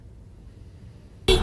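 A car horn blares loud and sudden from a car key fob panic alarm, cutting in abruptly after near silence.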